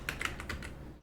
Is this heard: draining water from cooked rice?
no